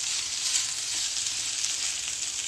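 Rice fries in butter in a hot pan, giving a continuous, close, bright sizzle with faint scraping as it is stirred.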